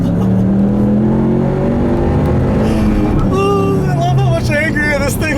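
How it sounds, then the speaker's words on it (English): Tuned Ford Mustang engine revving and accelerating up close with a steady, growly drone that climbs in pitch toward the end, while a voice talks over the latter half. "I'll leave you guys with a nice little acceleration here"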